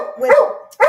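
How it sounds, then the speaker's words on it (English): A dog barks indoors, two close, loud barks with a short gap between them. "sorry about my dog"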